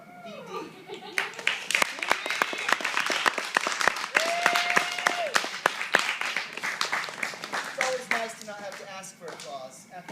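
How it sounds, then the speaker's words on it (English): An audience at a mentalist's comedy show breaks into steady applause with scattered sharp claps and some laughter, while the performer keeps talking over it. "applause after you've already messed up your show"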